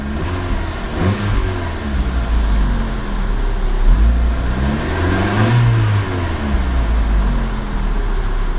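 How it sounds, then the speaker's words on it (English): The 1.4-liter engine of a 2012 Fiat 500 Lounge idles with a buzzy exhaust note, then is blipped into one rev that swells and settles back to idle, loud and close with no voices. "Quite a peppy little exhaust note to it."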